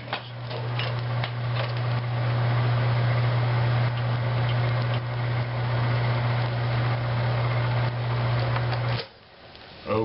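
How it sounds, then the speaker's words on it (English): A microwave oven heating a tortilla gives a steady low electric hum with a faint whirring drone for about nine seconds, then cuts off abruptly near the end. "tortilla up here in the oven to microwave oven to heat about 10 seconds."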